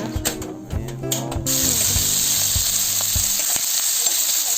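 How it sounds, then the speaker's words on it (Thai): Bite-sized pieces of pork belly sizzle and crackle as they are stir-fried in a hot pan, loud and close, with a few scraping clatters of stirring at the start. "เราก็นำมาคั่วนะคะ"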